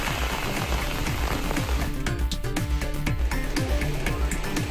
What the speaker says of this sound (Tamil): கருமேகங்கள் கூடி பலத்த மழை பெய்தது